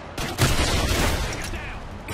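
Call of Duty Modern Warfare 2 team deathmatch gunfire: dense bursts of rapid shots with a loud blast near the start, continuous and close, with some voice mixed in.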